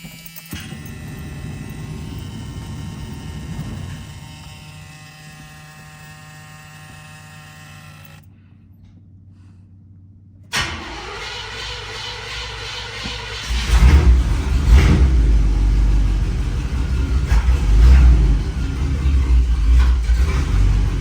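A 1979 Oldsmobile Cutlass Supreme cranks, pauses in near silence, then catches and fires into a loud, uneven rough idle that swells into a heavier rumble, with a steady high electronic tone sounding early on.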